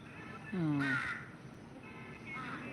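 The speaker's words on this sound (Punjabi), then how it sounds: "ਕਾਂ ਕਿਹੋ ਜਿਹੇ ਨੇ ਇੱਥੋਂ ਦੇ ਕਾਂ ਕਿਦਾਂ ਦੇ ਆ" A single loud Himalayan mountain crow caw rings out close by in the mountains, followed by a fainter second call, against quiet outdoor background.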